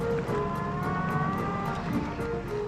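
A vintage pre-war Bentley's engine hums steadily with a whining gear tone that rises and holds, heard from inside or near the moving car.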